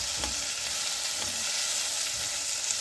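Onions frying in a pan, browning until soft, with a steady close sizzle and a few soft stirring scrapes, no talk.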